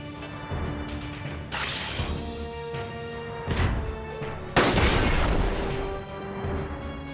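Sniper fire in the PS2 game Front Mission 4 comes as a few heavy, booming shots with long rumbling decays, spaced a couple of seconds apart over a steady game music bed.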